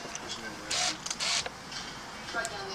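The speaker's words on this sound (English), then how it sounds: "And that's the shutter release." A Minolta Freedom TC-1 35mm point-and-shoot film camera firing its shutter release, heard as two short close mechanical whirs with small clicks in a quiet room, with no talk over them.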